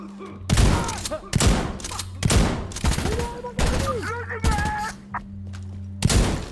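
Shotgun blasts in the video game Insurgency Sandstorm, several loud booming shots with sharp onsets spaced through the stretch, mixed with game sounds and faint voices.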